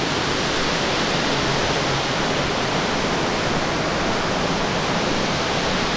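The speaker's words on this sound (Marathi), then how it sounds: "सगळीकडून असं पाणी असतं किती भारी आहे बघा पावसात इकडे सगळं पाणी वगैरे येतं आहे" Water rushing steadily at Shri Shringeshwar temple near a waterfall in the Konkan during the monsoon, a dense, continuous roar filling the whole clip with no voices.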